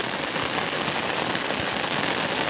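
Heavy rain falls during a cattle-grazing outing near Paderu, a dense, constant hiss of drops hitting surfaces close by, heard without talk.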